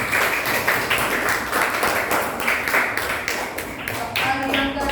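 Hands clap in applause in a classroom, a dense, steady patter of many claps lasting several seconds, with voices audible underneath.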